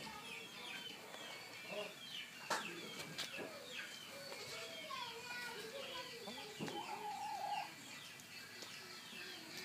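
Farm chickens clucking in a busy outdoor yard, with irregular soft clucks and short calls spread across the whole stretch, a louder squawk near the middle, and faint children's voices in the background.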